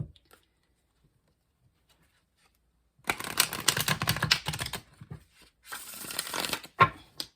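After three seconds of near silence, tarot cards are shuffled up close in two rapid riffling bursts, crisp flapping patter, followed by a sharp tap.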